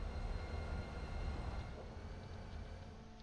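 Faint, steady low rumble of a heavy train rolling down a grade in Transport Fever 2, a continuous distant mechanical drone with no talk.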